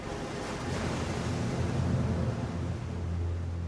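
Winter surf breaks and rolls onto the shore as a dense, continuous roar with some wind buffeting, close and loud, no voices present.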